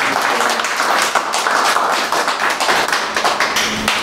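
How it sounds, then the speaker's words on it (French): An audience claps loudly and close by at a talk about children's follow-up care, with a dense patter of hands that holds steady throughout. "Ok, on peut applaudir."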